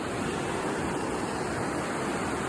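The Metolius River flows beside a forest trail with steady, broadband rushing water, continuous and fairly close, no talk over it.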